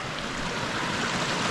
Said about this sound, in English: I need to cross the river.